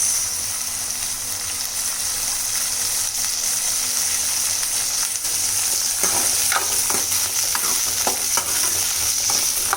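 Onion and garlic sauté in a pan with fenugreek seeds and curry leaves for a garlic curry. A loud, constant hiss carries throughout, and sharper stirring clicks and scrapes arrive in the latter half.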